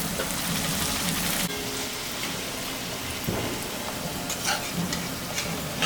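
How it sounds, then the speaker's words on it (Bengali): Luchi frying in hot mustard oil in a heated kadai gives a steady, dense crackling sizzle throughout, loud and continuous with a brief shift partway through and no talking. "এখন লুচিটা ভেজে নেব।"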